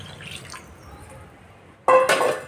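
Water is poured into a pot of sambar in a burst near the end, a short splashing pour after quiet kitchen background.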